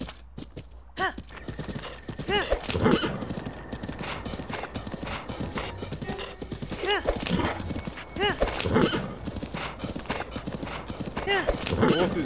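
Repeated hoof clip-clops with a horse whinnying, game-style sounds, while a person talks over much of it.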